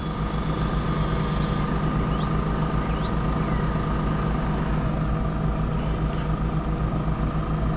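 A camper truck engine idles steadily with the air conditioning and fan running, a constant low drone and hum that holds even and unchanging throughout, with no talking.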